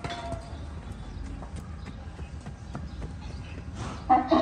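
Hooves of a donkey with overgrown, too-high front hooves clop repeatedly as it walks, a steady close rhythm over a bit of background noise, with a louder knock near the end.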